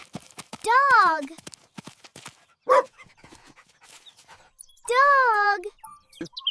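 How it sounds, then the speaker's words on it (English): A cartoon farm dog gives two short, bright barks a few seconds apart, mixed with scattered small clicks, pants and rustles, with a voice talking in between. "This is a dog."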